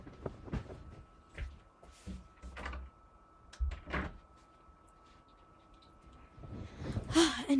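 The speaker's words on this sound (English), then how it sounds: "Now I'm gonna close the door again." A door is pushed shut indoors in a quiet home, with several soft knocks and thuds spread across the stretch and a sharper clatter at the end, all at close range and fairly faint.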